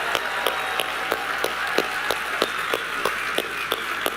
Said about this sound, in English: A round of applause for Jim Caldwell,